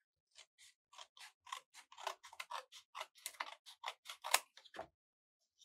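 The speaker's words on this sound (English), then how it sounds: "where that crease is, I'm just going to cut" Scissors snip through folded paper for a sun card craft, a close, quiet series of about twenty crisp cuts in an uneven rhythm with short pauses between them.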